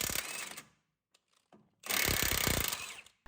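Nut being undone from the 19mm pinch bolt at the back of a VW Caddy Mk3/Mk4 hub during a coilover install: two loud bursts of rapid mechanical rattling from a power tool, separated by a near-silent gap with faint clicks.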